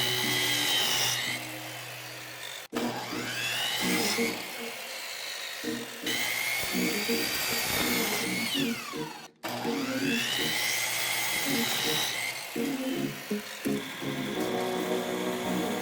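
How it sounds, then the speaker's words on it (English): A power saw set to a 30-degree angle cuts through wood in repeated passes, its whine rising and falling. The passes are broken by brief pauses, and a voice speaks in places. "I did this by setting my saw at 30 degrees and just following the"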